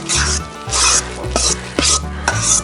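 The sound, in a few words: stirring shallots into the pan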